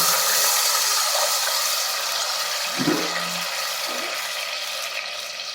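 Water poured into a hot pan while white pongal cooks with ghee and whole black peppercorns, heard as a steady, fairly faint rushing pour with no talk.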